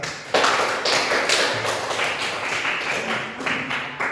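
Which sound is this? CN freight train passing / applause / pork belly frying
applause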